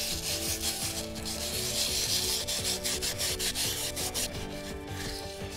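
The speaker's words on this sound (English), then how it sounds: "You'll want to remove the excess layer of skin with some steel wool." Steady rough scrubbing of steel wool against a hard birdhouse gourd skin, rhythmic back-and-forth strokes, close and continuous with no voices.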